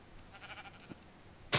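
Sheep in the Minecraft video game give a couple of short, faint bleats over a quiet background, ending with a brief louder sound.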